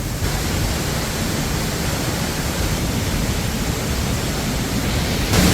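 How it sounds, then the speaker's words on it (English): A big waterfall at Petit Jean State Park in Arkansas roars as a loud, constant broadband rush, heard close up, steady and alone throughout. "I've been so fascinated on this waterfall"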